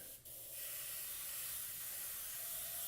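An airbrush sprays in a steady, loud, close hiss that keeps going almost without a break, after a brief dip near the start.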